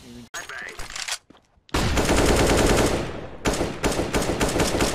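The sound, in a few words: gunfire in a first-person shooter video game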